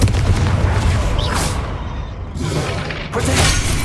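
A Confringo blasting spell explodes in the Hogwarts Legacy video game, a loud, booming roar that fills the whole clip, dips briefly and then swells again with a second heavy burst.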